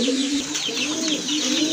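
A pigeon at a pigeon seller's coos close by in a soft, continuous, throaty burble with rising and falling notes.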